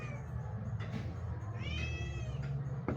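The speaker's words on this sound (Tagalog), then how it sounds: "Aba, mga pusa, nag-aantay ba?" Several cats meow repeatedly nearby, waiting by a kitchen where skipjack tuna is being cut for a soup with santol, their calls rising and falling over a steady low background hum.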